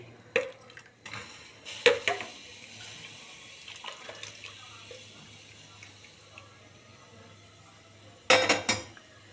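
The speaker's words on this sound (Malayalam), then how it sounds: "ഇപ്പം ഞാനിതിനെ ഒന്നിങ്ങനെ നന്നായി ഇളക്കുകയാണ്." Soaked rice being stirred in a pot produces bursts of metallic clinking and scraping, louder at the start and again near the end, with quieter rustling in between and no voices.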